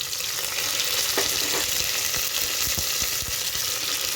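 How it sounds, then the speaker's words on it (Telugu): Fenugreek, mint and coriander leaves being stirred into a frying mutton gravy curry: a constant sizzle with soft, repeated scraping clicks of the spoon against the pan. "తర్వాత కాస్త కొత్తిమీర, ఇవన్నీ చక్కగా వేసి కలుపుకోవాలి."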